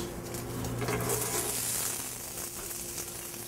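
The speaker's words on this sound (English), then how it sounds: "you just get a little bit of oil, saute your asparagus" Asparagus sautéing in a little oil in a hot pan gives a continuous, even sizzle with soft crackle, close and steady throughout, with a faint low hum beneath.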